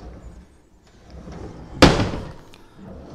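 A kitchen drawer in a Scotbilt Chipper home slams shut with one sharp, loud bang partway through, preceded and followed by quiet room noise and soft handling sounds.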